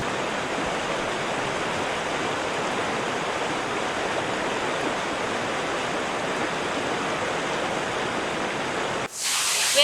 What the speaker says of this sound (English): Found the first waterfall. The tiny waterfall.